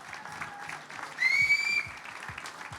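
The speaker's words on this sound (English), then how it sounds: "give yourself a clap" Applause from an audience at a radio station's 50th anniversary gala: a steady patter of clapping hands, rising to a louder burst in the middle before settling, with a faint tonal whistle threading above it.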